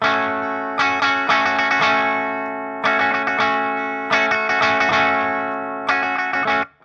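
Electric guitar fitted with Fishman Fluence active pickups in high frequency tilt mode, playing heavily distorted chords with reverb, slightly softened highs, in rhythmic bursts of several hits with sustained ringing between them and no talking.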